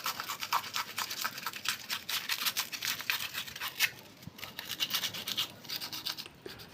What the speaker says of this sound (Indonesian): tinggal kalian amplas